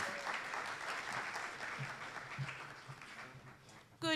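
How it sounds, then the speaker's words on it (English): Round of applause from an audience at a youth policy dialogue greeting a panel moderator, fairly faint dense clapping that holds steady and fades toward the end. "A round of applause for Shamima Muslim."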